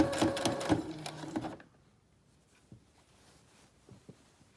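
Sewing machine stitching bias tape to a garment top, running in a close, busy burst for about a second and a half before stopping, followed by near silence with a few faint handling clicks.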